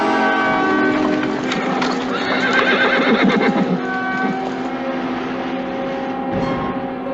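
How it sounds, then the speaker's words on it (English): Horses moving on open desert ground in a Western setting, with whinnying and neighing standing out over a steady background of hoofbeats and movement, fairly loud and continuous without talk. "I think I saw some horses up there moving."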